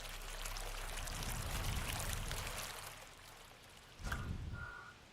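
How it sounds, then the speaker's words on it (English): Gentle flowing water from a lazy river beside a video game stadium, a continuous soft rushing wash that fades, then swells again briefly near the end. "they make sure that you can hear water when you're near a lazy river"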